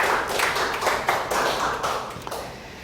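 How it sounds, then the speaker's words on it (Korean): A church congregation at a Wednesday worship service gives a short burst of clapping, soft and diffuse with a few distinct taps, lasting under three seconds. "하나님께 영광의 박수를."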